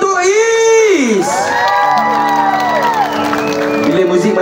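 A large outdoor concert crowd at Dataran Temerloh during a show cheers loudly, with rising whoops and shouts over scattered applause, a few voices standing out near the front.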